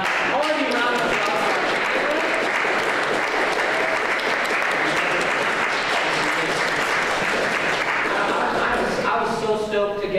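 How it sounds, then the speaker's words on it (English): Loud, sustained applause fills the room for a panel on careers in animation, dense and continuous, with a voice surfacing briefly at the start and again near the end. "Ladies and gentlemen, all of you, round of applause."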